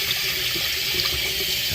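A cold water tap runs steadily into a sink, its broad hiss filling the short stretch without pause while a foam air filter from an RC race buggy is rinsed beneath it.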